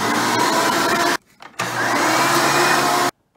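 Hoover Preferred vacuum cleaner with a rare single-row brush roll running loud and close with a steady roar and whine, cut off briefly, then running again before stopping abruptly.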